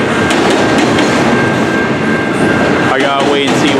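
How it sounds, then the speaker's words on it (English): An Amtrak passenger train rolls past in New Westminster, a loud, close, continuous rumble of wheels on rail with faint squeal near the end. "I bet you it's the Amtrak."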